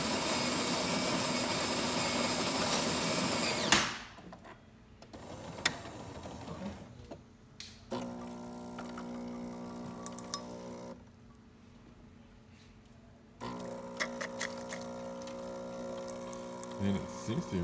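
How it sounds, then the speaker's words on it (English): Jura J9 espresso machine pulling a shot: a loud mechanical whir, then quieter stretches broken by clicks and a steady pump hum with tonal buzzing that starts, pauses and resumes, with no talking. "it seems to be making a shot without any issues"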